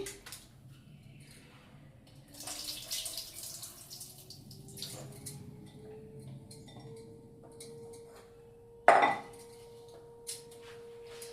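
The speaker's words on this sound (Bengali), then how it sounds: "এই ডালটা আমি ধুচ্ছি।" Red and mung lentils are washed in water in a home kitchen, with soft sloshing and trickling, a faint rising tone of filling water and one brief louder splash or clink, no talking.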